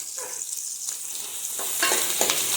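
Onions and green chilies sautéing in a pan, a continuous bright sizzle that grows a little louder toward the end, with soft stirring scrapes and no voices.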